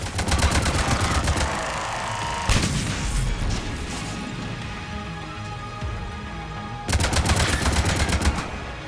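Turret gunfire in the video game Mass Effect 3: rapid automatic bursts roar loudly at the start and again near the end, with a heavy booming rumble of battle between them.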